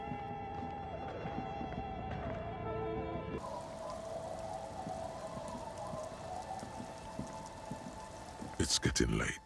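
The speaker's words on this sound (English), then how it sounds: "It's getting late, and it's raining." Rain falling in the video game Disco Elysium, a soft steady patter with faint tonal sounds over it, turning louder and busier partway through, with a few sharp clatters near the end.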